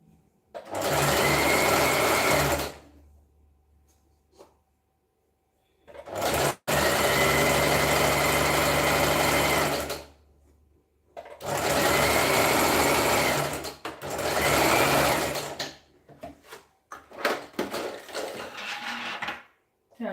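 A sewing machine stitches a waistband in several loud, close runs of steady whirring of a few seconds each, separated by pauses and light handling clatter.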